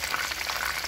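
Marinated chicken frying in hot cooking oil, a steady close sizzle filling the whole short moment with no talk.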